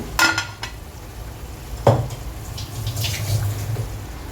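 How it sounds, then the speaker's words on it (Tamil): Water boils in a pot for rice, bubbling with a steady low rumble and hiss, with a few light clinks of utensils now and then. "இப்போ தண்ணி கொதிக்குது."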